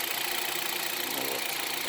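A 1.6 or 1.4 Hyundai Solaris engine with about 60,000 km, running on 5W40 oil, idles with a steady, dense mechanical clatter and a faint knock, close and continuous throughout.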